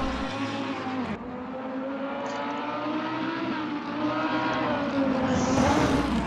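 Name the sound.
race car engine and gear shifting in racing video game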